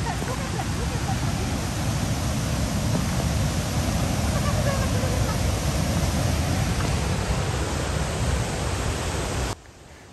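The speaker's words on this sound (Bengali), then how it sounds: "পাহাড়ের উপর থেকে ঝর্ণার পানি পড়ার শব্দ" Water pouring down from a hilltop at the Chutes du Moulin waterfall in Canada, a steady loud broadband roar that holds without break for about nine seconds before dropping away abruptly near the end.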